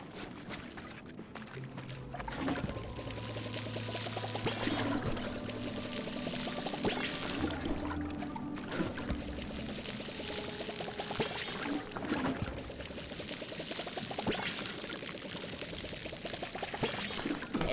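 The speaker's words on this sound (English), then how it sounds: "my crops need to be watered first. Then I can water all my random plants" Water pours and splashes steadily as crops are watered with a watering can in the cozy farming game Palia, a continuous close trickle with brief bursts and game chimes.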